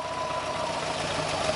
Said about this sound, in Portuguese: eu liguei o carro aqui e eu tô segurando ele acelerado porque ele não tá dando marcha lenta